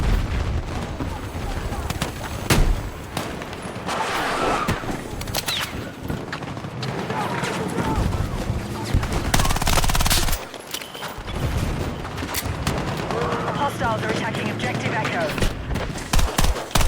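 A Vector submachine gun fires in fast bursts in a video game, its chattering shots mixed with booms and other battle noise while people talk over much of the action.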